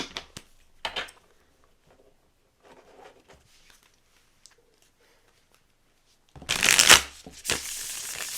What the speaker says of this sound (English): I'm gonna do a couple shuffles.